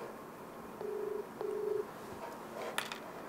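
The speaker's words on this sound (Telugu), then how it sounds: "సునీల్ నెంబర్ రింగ్ అవుతుంది." An outgoing phone call rings back with two even, buzzing ring tones in quick succession, faint and unaccompanied, followed by a brief click.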